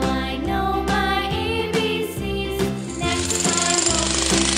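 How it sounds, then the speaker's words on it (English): A jackhammer at a construction site pounds in a rapid, loud, continuous rhythm, close up, with no voices. "Jackhammer."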